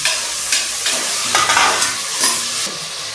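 Vegetables being added and stirred into a frying tomato masala for veg biryani, with a loud continuous sizzle broken by repeated scraping strokes of a spoon through the pan.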